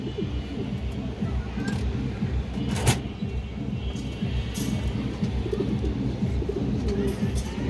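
A Giribaz high flyer pigeon coos softly in a low, steady rumbling drone over a constant background hum, close but faint, with a brief sharp click partway through.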